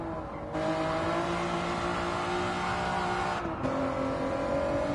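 A Honda NSX engine in Gran Turismo holds a steady high rev, loud and close. There is a brief dip as the gear shifts, then the whine carries on at a slightly different pitch, with no talking.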